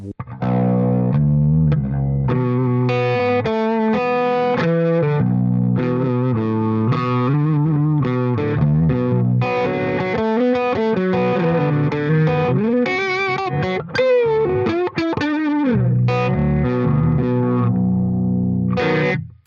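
A deep B-tuned baritone electric guitar plays a continuous melodic line through a VP4 effects unit, with distortion and chorus giving a thick, processed tone.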